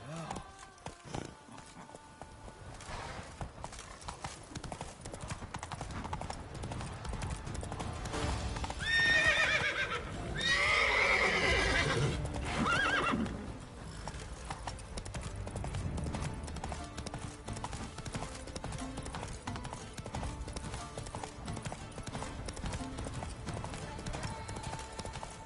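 Galloping horse hooves clatter in a quick, rolling rhythm across a Witcher 3 game landscape, with a whinny rising midway over the steady hoofbeats and game music running underneath.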